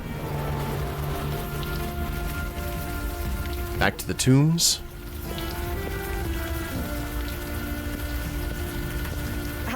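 Steady rain patters down in the video game Old Skies, a continuous wash running under game music tones, with a short spoken line midway.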